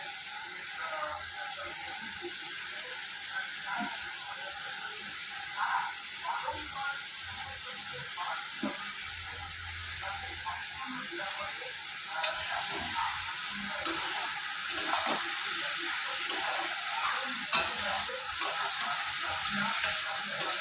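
A hilsa fish head cooks in a pan with chili powder, turmeric and salt, a steady sizzle and hiss running throughout while a utensil stirs and scrapes in irregular bursts that grow livelier toward the end.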